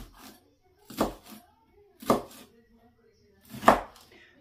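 Knife chopping through pork on a cutting board, three separate heavy thuds spaced about a second apart, with light handling noise between them.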